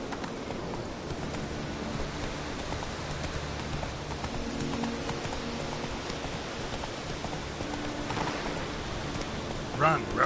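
Geralt's horse Roach gallops in The Witcher 3, hoofbeats running steadily beneath a dense wash of rain-like noise. A voice speaks briefly over it.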